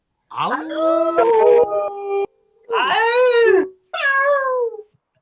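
Audience members at a public speaking club event howl together in imitation of wolves, three loud, drawn-out wavering wails separated by brief silences.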